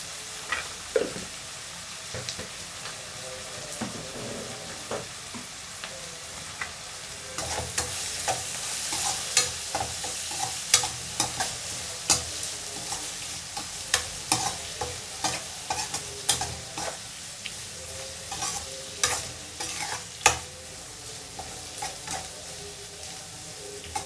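Okra frying in a pan with turmeric, stirred with repeated scraping and clinks over a steady sizzle that runs throughout at moderate loudness.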